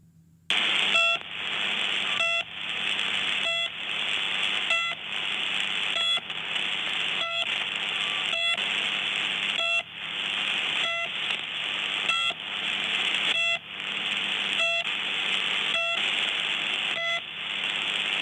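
Repeated short electronic beeps from the shortwave number station known as The Pip, in a steady, regular rhythm over a constant radio tone and hiss, continuing throughout without any voices.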